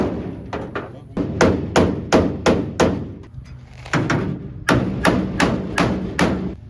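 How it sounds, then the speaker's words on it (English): Sharp hammer blows on bent sheet metal of a 1980 Ford F100 truck ring out in quick bursts, loud and close, with a short pause midway before the steady pounding resumes. "we'll just start hitting all this and knocking it in as evenly as we can with a hammer"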